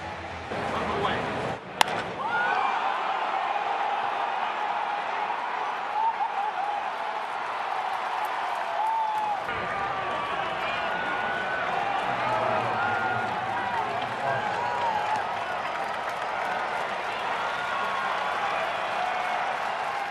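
Baseball stadium crowd cheering and applauding as fans rise for a Juan Soto home run at a Yankees game, a sustained broad roar swelling midway, with a commentator talking over it.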